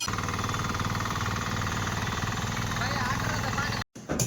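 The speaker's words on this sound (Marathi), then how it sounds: "नऊ एच पीचे पॉवर विडर हे ट्रॅक्टर आपण खरेदी केलेले आहेत" A 9 HP power weeder tiller engine runs loud and close with a steady, throbbing mechanical chug, broken by a brief dropout near the end before it resumes.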